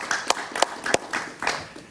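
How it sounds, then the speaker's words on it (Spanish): Studio audience clapping for a guest on a talk show, a short burst of scattered claps heard up close. "Un aplauso para Francisco, por favor."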